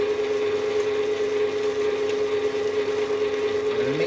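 Electric stand mixer beating egg into a butter-rich pastry mixture, a steady whirring motor hum with a strong constant tone, close and continuous, with a brief pitch shift near the end.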